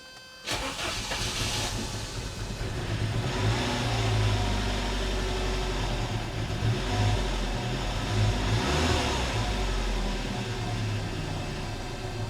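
An old Saab car engine cranks and catches, then revs and roars continuously at close range with a hissing edge, loud throughout with no speech.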